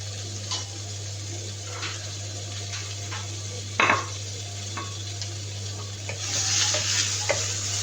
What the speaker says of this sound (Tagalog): magigisa tayo ng giniling na baka